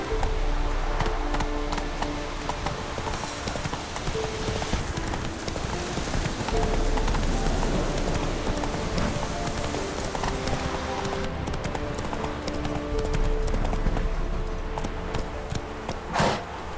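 Roach, the horse from The Witcher 3: Wild Hunt, gallops through falling rain, steady pounding hoofbeats close and loud over a constant hiss of rainfall for the whole stretch.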